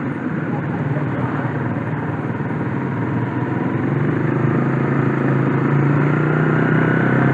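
A 150 cc motorcycle rides along a road with a steady engine drone and wind rumble throughout, while a rider talks over it.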